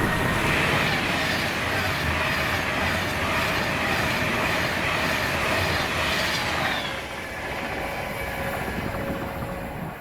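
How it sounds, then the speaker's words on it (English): Avanti West Coast passenger train from London Euston to Glasgow Central passes Carluke with a loud, continuous close rumble and clatter of wheels on rails, thinning out after several seconds as the carriages go by. "the early for once 1645 turned up at 1641, Avanti West Coast service to Glasgow Central from London Euston"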